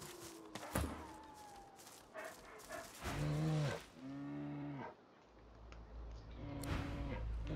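A bear in the video game Divinity: Original Sin 2 gives several deep, drawn-out harmonic growls in moaning bursts over a low rumble.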